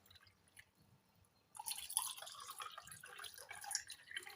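Water pours into a glass of plum and tamarind sherbet, a close, soft splashing trickle that starts partway through and continues steadily.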